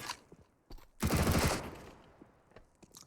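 Mac-10 submachine gun fire in a video game during a professional esports match: one dense, loud burst of rapid shots lasting about half a second, with faint game ambience and footsteps around it.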